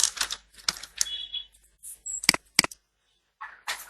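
Quick bursts of clicky typing on a computer keyboard, a few keystrokes at a time, with short pauses and near silence between them, close and fairly crisp.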